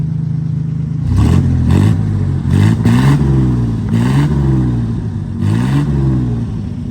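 A 1967 GMC C1500 pickup's 305 V6 engine revs repeatedly through its exhaust, several throaty surges rising and falling over a steady idle, loud and close.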